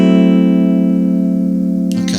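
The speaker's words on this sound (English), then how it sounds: "a minor 7 flat 5 chord, which sounds like this." A minor 7 flat 5 chord rings out as one sustained, evenly held harmonic sound, slowly decaying, with a brief scrape or handling noise near the end and no talking.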